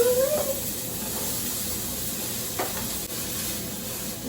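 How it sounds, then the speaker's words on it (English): Red onions sautéing in grapeseed oil on a stovetop at medium-high heat, a steady close sizzle and hiss with a few stirring scrapes, no talking. "I'm gonna go ahead and saute down these red onions"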